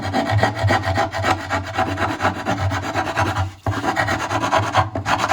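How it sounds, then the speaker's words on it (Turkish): Continuous rough rasping of sandpaper rubbing back and forth on the mulberry wood of a handmade saz, loud and close, with a brief pause midway before resuming. "Zımparayla biraz da şöyle rahatlatalım."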